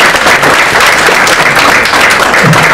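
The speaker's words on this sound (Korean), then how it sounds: "우리 좀 박수로 환영해 드리시기 바랍니다." Church congregation at a pastor's installation service applauding to welcome a guest: loud, dense, continuous clapping from a crowd, close and filling the whole stretch.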